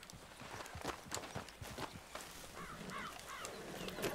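Horse hooves in the video game Red Dead Redemption 2, a few scattered soft thuds at a slow pace with crow caws behind them, quiet and with no talking.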